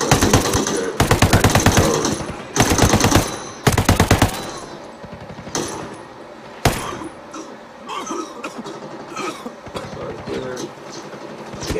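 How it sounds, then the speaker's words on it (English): Rapid automatic gunfire crackles in loud bursts during a military shooter game, with sharp single shots and impacts following as the barrage thins out, under a tense spoken voice. "Taking fire."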